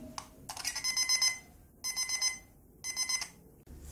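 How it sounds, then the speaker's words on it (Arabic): A homemade circuit continuity tester built from simple materials beeps as its probes touch a circuit, giving three sustained electronic tones with short gaps between them, loud and clear with no talking. "فبمجرد وصول أو توصيل الدوائر كما ترون فإن الجهاز يرن ويعطي هذا اللون بالأخضر"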